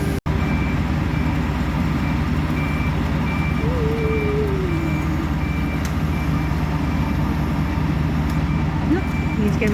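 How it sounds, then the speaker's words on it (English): A truck backs up at a tree-lopping job site, its steady reversing beeper repeating at an even pace over a loud, constant engine rumble, with talk faintly audible nearby. "He's going to move the truck back a bit."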